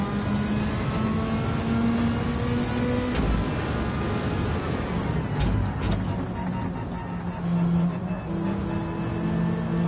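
Nissan Skyline Super Silhouette race car in Gran Turismo 7 droning steadily at high revs on a drying track, with gear shifts and other cars in traffic passing close, loud throughout.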